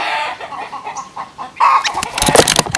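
Blue Ameraucana chickens cluck and squawk close by, soft intermittent clucks giving way to a louder burst of excited calls near the end.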